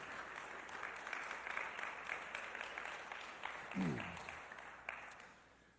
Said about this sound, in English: Please give Coulter a big round of applause.